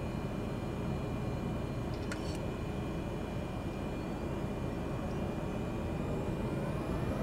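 A Cessna Grand Caravan taking off, its engine and propeller a steady, loud broadband drone heard from inside the cabin, with a brief faint click partway through.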